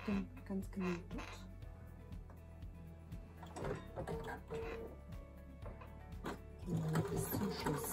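A home sewing machine stitches a seam in brief stop-and-start bursts of rapid mechanical whirring, moderately loud and close, with someone speaking German over much of it.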